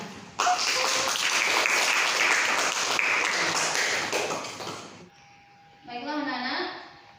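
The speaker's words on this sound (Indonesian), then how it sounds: "mari kita berikan aplaus untuk semua kelompok" A classroom of students gives a loud burst of applause for group presentations, sustained clapping for about five seconds before fading, followed by faint chatter and a brief second round of clapping.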